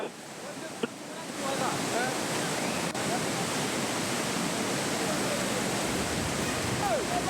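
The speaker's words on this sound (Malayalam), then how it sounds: "പുന്നപ്പുഴ കുത്തിയൊലിച്ച് ഒഴുകുകയാണ്." The swollen Punnapuzha river in Chooral Mala, Wayanad, rushes loudly after heavy rain, a dense, steady roar of water that holds unbroken throughout.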